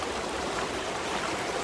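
A muddy creek over bedrock runs in a steady, soft rushing flow, faint and continuous with no voices.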